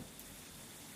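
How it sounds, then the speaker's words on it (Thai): Steady rain pours in a survival horror video game, a dense, even hiss filling the whole second with no gaps, close and constant, with faint low rumbles underneath. "ฝนตก"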